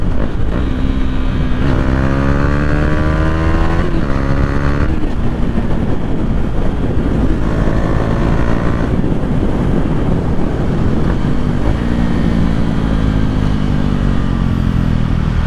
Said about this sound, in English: If you have the exhaust right, the downshifts will be crazy.